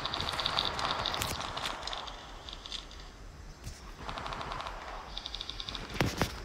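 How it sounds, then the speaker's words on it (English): Rapid automatic gunfire from a nearby player in Apex Legends Mobile, heard as several quick bursts of crackling shots separated by short pauses, with a few sharp single reports near the end. "Somebody's firing."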